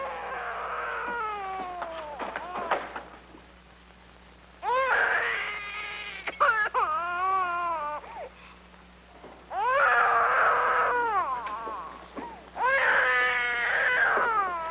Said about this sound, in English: Now do you hear a baby crying?